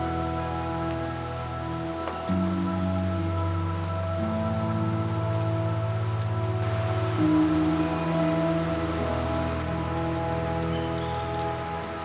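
Steady rain falls in remote Australian wilderness near a cave, a continuous close wash of drops hitting surfaces for the whole stretch, with low droning tones underneath and no voices.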